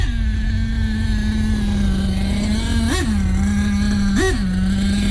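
An OFNA Ravenger 9.5 nitro RC buggy engine screams at a high steady whine, loud and close, with two quick rising revs that dip back to idle pitch.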